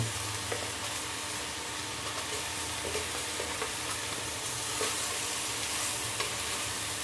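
Pork simmering in its own juices in a pot with a tablespoon of fish sauce added, stirred with soft repeated scraping over a low, steady bubbling sizzle, close and moderately quiet.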